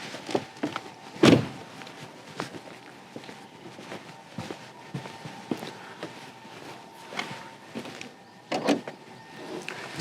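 A BMW M5 F90 trunk is released and opened with a lever: a sharp latch click and thump near the start, then a quieter scrape, with another clunk near the end, all close by.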